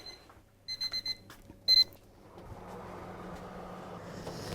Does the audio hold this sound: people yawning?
no